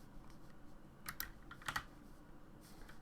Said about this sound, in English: we're typing